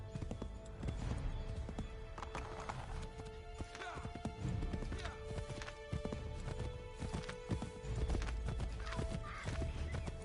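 A horse gallops steadily in the video game Assassin's Creed III, rhythmic hoofbeats with an occasional neigh, mixed with game music and ambient sound throughout.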